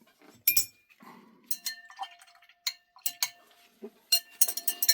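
Stripping solution stirred in a glass container: a series of sharp, bright clinks of a stirrer against glass, scattered irregularly and close by, with brief soft swishes between strikes.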